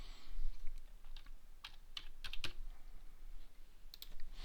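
Keys clacking on a computer keyboard while entering numbers into an accounting practice paper, a sparse run of distinct close taps with short pauses, alone without speech.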